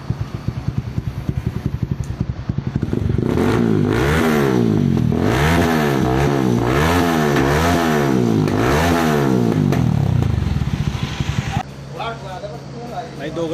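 A motorcycle engine on a night street in Dehradun is revved repeatedly in a steady rising-and-falling rhythm for several seconds, loud and close, then settles back to a lower idle while people talk nearby.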